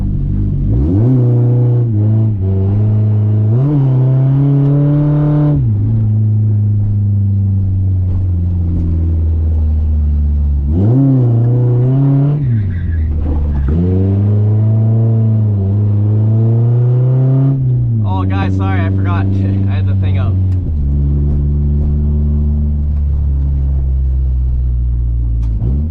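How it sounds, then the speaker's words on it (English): Car engine revving hard while drifting, a loud, close and continuous roar that repeatedly climbs and drops in pitch, with tire and wind noise mixed in and no talk. "I'm going to find a spot that I can drift at without too many people"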